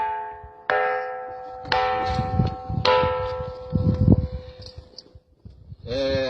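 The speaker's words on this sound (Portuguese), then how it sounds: "Essa pedra aqui, quando a gente bate nela, ela emite um som, parece um sino." Pedra do Sino, a bell-sounding stone, struck several times; each clear metallic ringing strike decays slowly, with people talking quietly between the strikes.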